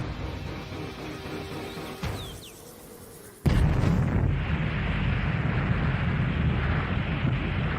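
Distant boom from the Trinity atomic bomb test in New Mexico, a sudden loud blast that jumps in level after a quieter stretch and then holds as a sustained, wind-buffeted roar.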